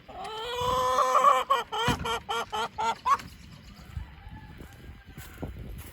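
Chickens in a dirty coop clucking and squawking loudly in repeated calls, then a quieter stretch with faint clucks and background noise; someone speaks briefly.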